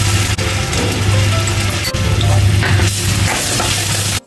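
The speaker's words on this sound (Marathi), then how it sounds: "चांगलं परतून घ्यायचं तेलामध्ये आणि बटरमध्ये" Ginger garlic paste frying in oil and butter for pav bhaji, a loud, steady crackling sizzle that runs unbroken from start to end with no talking.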